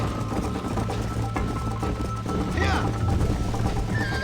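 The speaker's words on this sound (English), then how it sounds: "Ih, o cavalo tá cansado, velho." Horse galloping in the video game Red Dead Redemption, the animal tired, with continuous rhythmic hoofbeats under game sound while a person talks over it.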